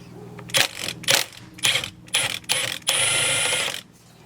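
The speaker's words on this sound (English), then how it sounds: "this bolt you guys need to remove back here. It's going to be a 16 mil socket." A 16 mm socket on a ratchet removing a bolt from a BMW 335i during a steering wheel install, giving several quick clicking ratchet bursts and then a longer continuous ratcheting run, close and clear.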